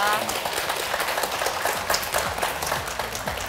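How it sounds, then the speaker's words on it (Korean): A studio audience at a medical talk show on stroke applauds two professors from the Chosun University stroke centre, a loud, dense burst of clapping that runs throughout with a voice faintly underneath. "조선대학교 뇌졸중 센터 두 교수님께 박수 부탁드리겠습니다"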